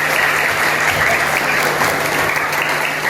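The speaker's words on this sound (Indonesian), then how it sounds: "Oke, tepuk tangan." Thick, continuous applause from an audience at a talk on preventing gas cylinder explosions, loud and even with no breaks, the crowd clapping together up close.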